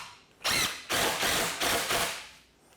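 A power drill drives screws during a DIY kitchen renovation, four short bursts of whirring with brief pauses between, close and fairly loud.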